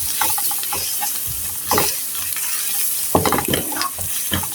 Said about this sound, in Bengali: এর মাঝে দিয়ে দিব এখন শুকনা সব মরিচ সব মশলাগুলি এখন হালকা একটু আমি ভেজে নিব।